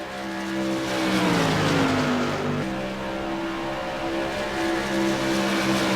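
Light modified race cars roar through turns 1 and 2 at Rockingham Speedway on a foggy day, with engines sustained and loud, pitch sliding as they pass, the sound steady and close for the whole stretch.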